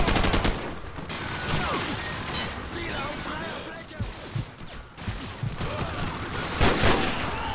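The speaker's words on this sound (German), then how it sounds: "Die haben sogar von hinten auf mich geschossen." Enemy gunfire in the video game Call of Duty 4: Modern Warfare, repeated bursts and shots crackling through a busy battlefield mix, loud and continuous with sharper impacts near the end, while someone talks over it.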